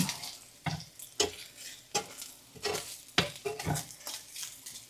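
Bacon fries in a pan as it is stirred and scraped, giving sharp, irregular clacks over a soft, constant sizzle, close and moderately quiet.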